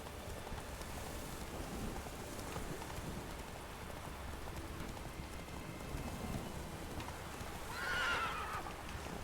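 Roach the horse galloping in The Witcher 3 video game, a steady clatter of hooves under rain and distant thunder, with a short whinny rising near the end.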